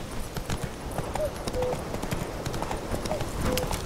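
Roach, Geralt's horse in The Witcher video game, gallops with rapid, close clip-clop hoofbeats in a continuous driving rhythm, while faint short tonal calls surface in the background.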